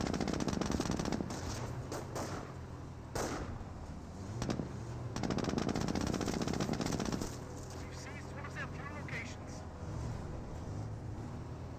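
MG42 machine gun fire in the Company of Heroes video game crackles in sustained bursts amid a dense battlefield din, with short breaks between volleys and radio-style voice lines over the top.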